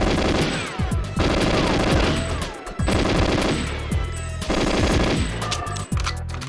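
Rapid turret gunfire in the GoldenEye 007 video game, loud sustained bursts of automatic shots repeating in several waves with brief pauses between them, no talking.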